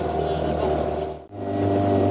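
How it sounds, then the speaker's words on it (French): A small boat's outboard motor runs with a steady, close, droning hum that briefly dips in the middle before settling back into a constant note, with a voice or two faintly present. "Alors, il marche bien, ce moteur?"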